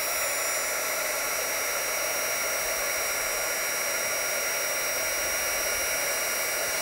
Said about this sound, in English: you're going to apply the heat gun to the cardstock, and you're going to slowly move it around